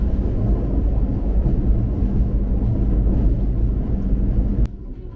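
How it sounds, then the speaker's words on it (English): Loud, steady low rumble of a moving train heard from inside, heading into central Jakarta, a continuous roar that drops suddenly near the end. "So we're on a train."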